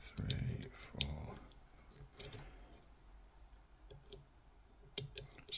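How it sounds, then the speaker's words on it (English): Small, faint pin clicks from picking a Ruko mortice cylinder with a tension wrench, a few scattered ticks and light metallic scrapes under quiet background noise. "Small click on two."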